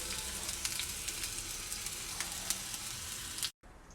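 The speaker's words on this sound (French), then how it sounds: "Pendant que les oignons cuisent tranquillement" Onions fry in olive oil in a tagine, giving a steady close sizzle with faint stirring clicks that stops abruptly near the end, leaving a quieter hiss.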